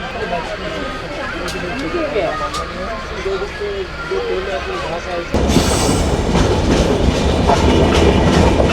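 Benapole Express train running on rails in Bangladesh, a steady rumble with rhythmic wheel clatter that grows louder and harsher partway through, while people talk over it.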